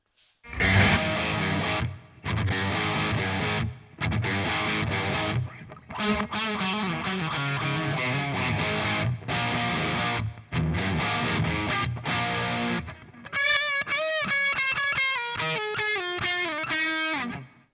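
Heavily distorted electric guitar through a Revv Generator 120 Mk3 amp with reverb plays chunky riffs in bursts with short gaps, then ends in a ringing, bending lead phrase that trails off with reverb.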